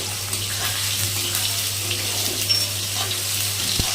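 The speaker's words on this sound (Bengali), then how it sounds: "হালকা ভাজা ভাজা করে এর মধ্যে ঢ্যাঁড়সটা দিয়ে দেব।" A pan of okra cooking with tomato, bay leaf, cumin and green chili gives a steady, moderate hissing sizzle over a low constant hum, with a faint knock near the end.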